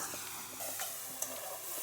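Spices with Kashmiri red chili powder frying in a pan for a Bengali fish and brinjal curry, a steady close sizzle with soft stirring scrapes and one small clink, no voice.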